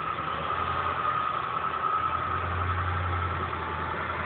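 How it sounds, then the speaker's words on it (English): A truck engine runs steadily while plowing snow from a parking lot during a snowstorm, a continuous low rumble and hum with a deeper swell partway through, at moderate distance. "That is the truck trying to clean up the parking lot one more time."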